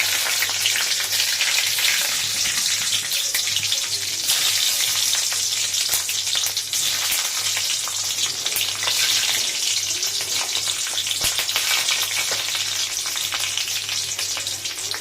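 Green chilies and nigella seeds frying in hot oil, a loud continuous hiss and spattering sizzle with a low steady hum beneath.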